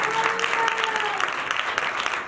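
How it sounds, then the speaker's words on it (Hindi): A church congregation gives dense, steady applause, a continuous wash of many hands clapping at moderate distance, with no speech over it. "मैं चाहूँगा कि मेरे रूहानी माँ बाप के लिए जोरदार तालियां"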